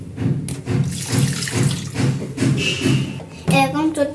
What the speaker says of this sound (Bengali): এখন আমি আপনাদের কাশ্মীরি পনিরের ময়দাটা ধুয়ে দেখাবো।